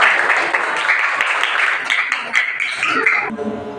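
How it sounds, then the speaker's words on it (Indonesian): A classroom claps for a group that has just presented, a short burst of close applause mixed with chatter and a chuckle, fading out near the end. "Beri tepuk tangan untuk kelompok."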